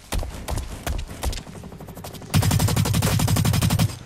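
Gunfire in the shooter game Blacklight Retribution: scattered single shots at first, then a loud, sustained automatic burst of rapid, evenly spaced rounds filling the second half.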